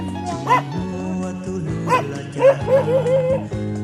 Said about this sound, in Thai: เห่าเยอะอย่าเห่าเยอะ